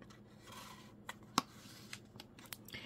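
Scissors snip through paper photo mats in a quiet room, one crisp cut standing out amid faint rubbing and small paper rustles, close and fairly soft.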